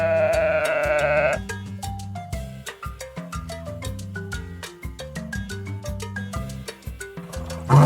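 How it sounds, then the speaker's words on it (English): A sheep gives a short, wavering bleat at the start, followed by a bright, plucky tune of melodic notes. "Sheep."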